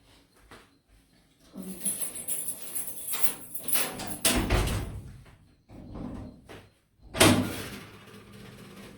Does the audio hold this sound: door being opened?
yes